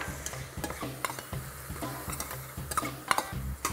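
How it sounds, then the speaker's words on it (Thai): Shrimp heads stir-fried with butter in a hot pan, crackling and sizzling steadily while a utensil scrapes and taps against the metal in quick irregular strokes. "เอาล่ะผมผัดหัวกุ้งกับโอเบนะครับปรุงรสด้วยเกลือพริกไทย"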